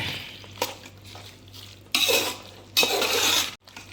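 Metal spoon stirring mutton pulao with mint in a pot, scraping and clanking in several loud bursts with short pauses between.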